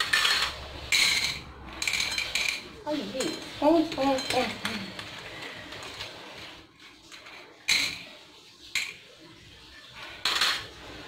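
A fork clinks and scrapes against small baked tartlet shells, emptying out the chickpeas used as pie weights, with a cluster of light metallic scrapes and taps in the middle followed by a few sharper clinks.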